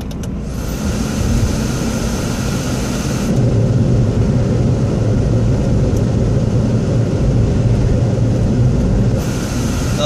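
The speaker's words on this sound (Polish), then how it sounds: "Teraz włączymy wentylator na maksa." A car's ventilation fan runs at its maximum, fourth speed, a loud, steady broadband whoosh that grows stronger partway through and holds evenly.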